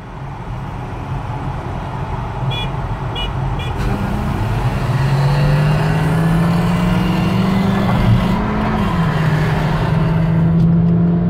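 A Lada Priora and a Kia Rio with a 1.6 engine race flat out on a closed test track, their engines droning loudly at high revs with a whining pitch that climbs steadily, and no talking is heard.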